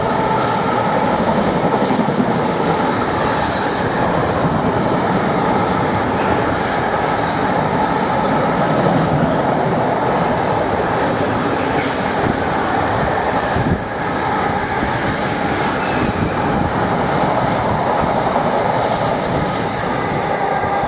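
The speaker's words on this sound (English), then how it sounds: "to race through platform 1 is intermodal service 4 Mike 87 from Felixstowe North Terminal to Daventry." Intermodal freight train from Felixstowe North Terminal to Daventry hauled by a Class 66 loco, racing through a station platform: a sustained, loud rumble of wagons with clattering wheels and faint squeal across the whole stretch, no voices.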